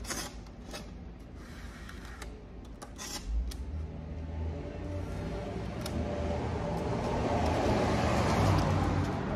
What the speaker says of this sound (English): Sorry for all the traffic in the neighborhood. It's sort of loud.